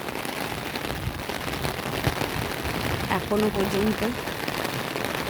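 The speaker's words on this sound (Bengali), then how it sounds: "এত বৃষ্টি হচ্ছে" Heavy rain pours steadily in a dense, continuous hiss, with a voice speaking briefly over it.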